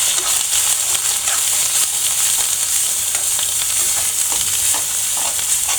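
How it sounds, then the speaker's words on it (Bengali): Homemade ground spice paste frying and being stirred in oil in a pan, a continuous loud sizzle with scraping stir strokes scattered throughout. "আমি এখন মশলাটাকে ভালো করে একটু কষিয়ে নেব"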